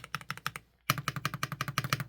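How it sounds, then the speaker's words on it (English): Keys clack on a Chilkey Slice75 Hall effect mechanical keyboard in two quick bursts of crisp, evenly spaced strokes separated by a brief pause, close and moderately loud with no voices. "I would say that's like pretty moderate mechanical keyboard volume"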